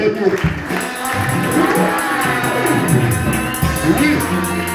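A congregation at a French-language spiritual retreat applauds and cheers, with steady clapping mixed with shouts and whoops from the crowd, fairly loud and close throughout.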